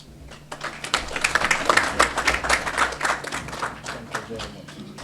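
Audience at a car dealers' association launch in the Gambia breaks into applause after a speech, a dense round of hand clapping that swells and holds for several seconds before easing off slightly.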